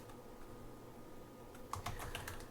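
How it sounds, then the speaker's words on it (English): Keys on a computer keyboard tap softly; a brief run of distinct keystrokes starts midway over a quiet room hum. "let me do some typing to get us started"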